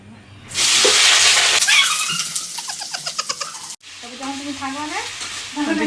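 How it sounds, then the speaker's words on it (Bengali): Loud hissing sizzle as potatoes hit hot oil for chow mein, followed by scraping stirs in a wok with a voice talking over the cooking. "আলুটা ভাজতে হবে তো।"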